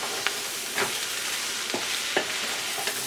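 Vegetables stir-fry in oil for vegan pad thai, with a continuous loud sizzle and several scraping stirs of the spatula through the pan.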